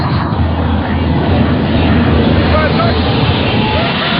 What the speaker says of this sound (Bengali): Y2K অবিশ্বাস্য ঘন্টায় 349 কিলোমিটার গতিতে চলেছে